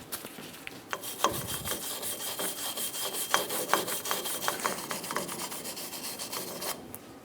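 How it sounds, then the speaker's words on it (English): The rear wheel hub of a Toyota Tacoma is scrubbed clean with a rasping, scraping sound in a string of uneven strokes, close up and moderately loud, with no talking. "we're going to clean the hub"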